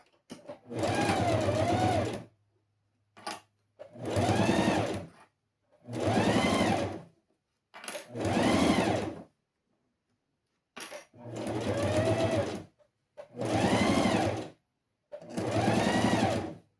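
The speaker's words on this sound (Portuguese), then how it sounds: "Então, vamos costurar aqui." A sewing machine stitches a fabric box-style cosmetic pouch in seven distinct runs of about a second or two each, loud and close, with short silent pauses between them.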